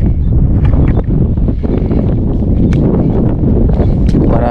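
Strong wind buffets a small fishing boat at sea, roaring loud and constant against the microphone and burying any other sound.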